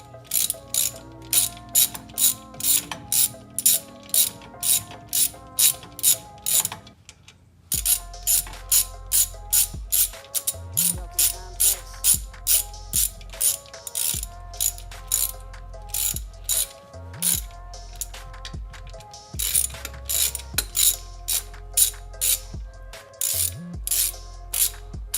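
A socket ratchet tightening bolts on a D Series cable-to-hydro brake conversion, steady rapid pawl clicking in repeated back-and-forth strokes, loud and close with one brief pause partway through.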